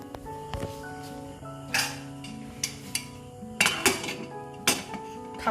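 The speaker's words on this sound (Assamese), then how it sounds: "খাপখন লগাই দিব লাগিব।" Metal lid fitted onto a cooking pot, several sharp clanks and rattling clinks of metal against metal with ringing tones, close by.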